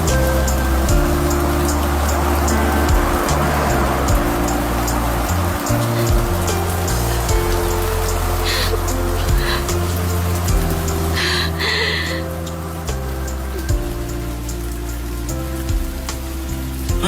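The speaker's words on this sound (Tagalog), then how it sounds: "Lakas ng ulan!" Heavy rain pours steadily throughout, a dense continuous hiss of drops striking surfaces, with a tonal drone layered beneath it and a few brief clatters near the end.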